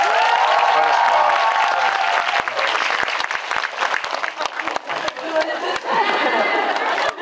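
Audience applause fills a film talk event for the Korean movie Money with its director and cast, a loud sustained wash of clapping and crowd noise with scattered cheers, fading slightly toward the end.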